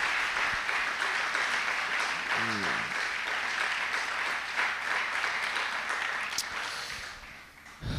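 A church congregation claps after the reading of the word of the Lord, a dense, steady applause that fills the space for several seconds before thinning out. A brief voice sounds partway through.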